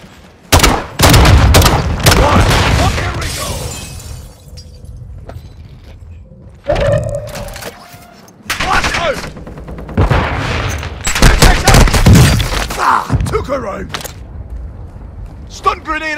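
Bursts of gunfire and explosions in Call of Duty Warzone Resurgence. Loud, clustered volleys alternate with brief lulls, and in-game voice callouts are heard between the shots.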